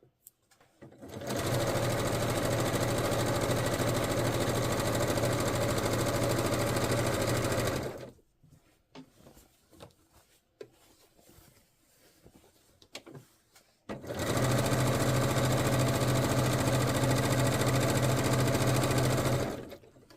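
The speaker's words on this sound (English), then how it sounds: "I'm going to stitch these pieces together without hand basting" A sewing machine stitches dress back pieces together, running in two long steady whirring bursts separated by a quiet pause with faint handling sounds.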